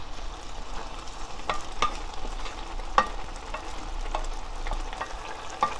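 Bracken fern greens (gosari namul) being stir-fried in a pan: a continuous crackling sizzle with repeated scraping strokes of stirring every second or so, close and moderately loud, with no talking.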